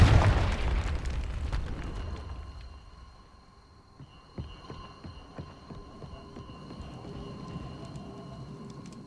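A Confringo blasting spell goes off in Hogwarts Legacy with a loud, close burst that rumbles and decays over a few seconds, followed by scattered smaller pops and crackles over a lingering low ambient hum.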